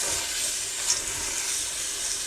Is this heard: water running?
yes